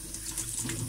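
Tap water runs steadily from a kitchen faucet while bolete mushrooms are rinsed and brushed, a continuous close splashing stream with no voices.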